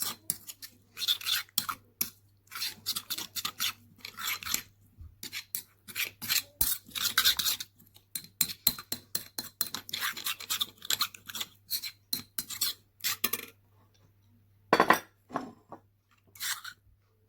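A spoon stirs green chutney with yogurt in bursts of close, gritty scraping and rubbing, short strokes separated by brief pauses, with one sharp clink near the end.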